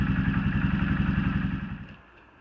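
A Honda Monkey 125 motorcycle with a Black Widow exhaust, baffle removed, idles loud and close with a throbbing, lumpy rumble that fades abruptly near the end.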